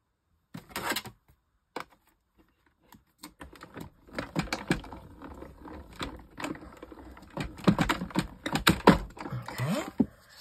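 A blade cuts through two layers of card for an oriental vase card, giving quiet, close scraping and tapping strokes that start sparse and grow busier and more continuous, with no talk.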